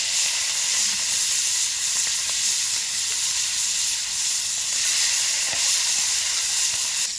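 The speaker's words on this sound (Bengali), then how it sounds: "লেজটা আগে আমি ভালো করে ভেজে তুলে নেব।" Prawn tails frying in hot oil, a loud, steady, hissing sizzle that continues unbroken, close up, with no talking over it.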